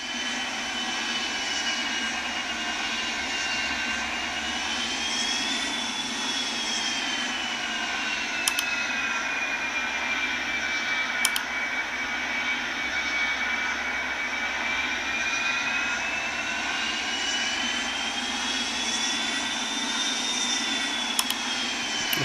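Simulated airplane taxiing in the Real Flight Simulator mobile game, a steady engine drone with a slowly wavering whine, continuous and even, with a few faint clicks on top.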